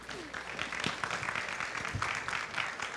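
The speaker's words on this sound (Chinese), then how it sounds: "我们先给陈瑞文先生掌声好吗？" An audience at a university lecture on sponge cities gives a lecture speaker sustained applause, a dense, steady wash of clapping throughout the room.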